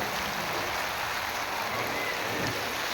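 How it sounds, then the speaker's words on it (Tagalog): Heavy rain falls steadily beside an opened drainage canal at a pumping station after floodwater rose overnight, a dense, even hiss of downpour with no voices. "So ang lakas ng ulan"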